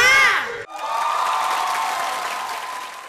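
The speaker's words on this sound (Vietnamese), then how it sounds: "một tràng pháo tay thật lớn cho tình huống ứng biến của nhóm The Beast" An audience at a Vietnamese comedy game show breaks into sustained clapping and cheering after a burst of high shouting and laughter, the applause holding steady to the end.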